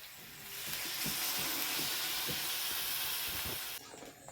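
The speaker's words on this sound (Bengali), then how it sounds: "তো এখন আমি পরিমাণ মতো জল দেব সেদ্ধ হওয়ার জন্য।" Water poured into a hot pan of spiced papaya and chicken curry sets off a loud burst of steaming hiss and sizzle that holds strongly, then drops off suddenly near the end.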